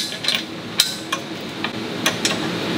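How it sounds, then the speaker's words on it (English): Washers, lock washers and nuts are fitted to the underside of a WEN cast iron pedestal stand for a DeWalt DW758 grinder, giving a few sparse, light metallic clicks and taps with no talking. "so now I'm going to do washer, lock washer, and nut on the bottom side here."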